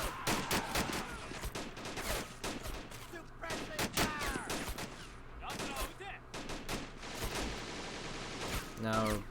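Gunfire from a machine gun and other weapons in the Men of War: Assault Squad 2 video game with an Army Men mod, a dense, loud battle din of rapid cracks and bursts running throughout, with a voice talking over parts of it.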